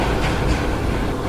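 Mangala Lakshadweep Express on its way from Ernakulam toward Nizamuddin gives a steady, loud rumbling roar from the carriage, a dense low drone with no voices.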